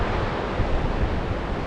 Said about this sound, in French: regarde ça, la rivière qui coule, là, tu vois